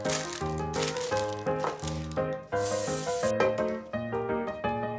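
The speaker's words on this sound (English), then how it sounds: "grease with cooking spray" Short bursts of cooking spray hiss as a loaf pan is greased, a couple of quick sprays, partly buried under loud background music.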